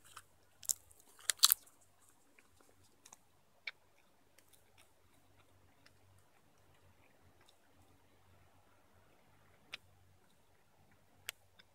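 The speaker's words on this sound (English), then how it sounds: "if you chew salal leaves, it acts like an appetite suppressant" Salal leaves being chewed outdoors during solo survival on Vancouver Island: a burst of close crunchy bites early on, then sparse faint chewing clicks and occasional sharp ticks over a quiet low hum.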